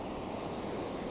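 Steady rushing water, like waves washing nearby, with continuous broadband noise and no voices.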